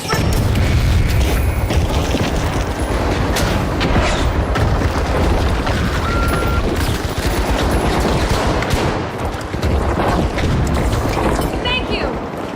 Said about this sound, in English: grenade out. Tossing a frag.